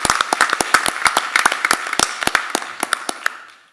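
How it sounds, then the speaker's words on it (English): Applause from a small audience at a school board meeting, a few dozen separate sharp claps in quick irregular succession, fairly close, thinning out and fading near the end. "Let's give her a round of applause."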